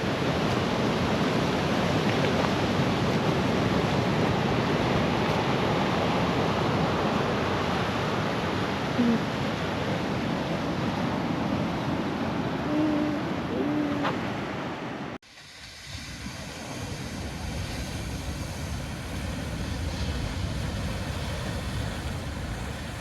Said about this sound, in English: A little more of the rock splashing.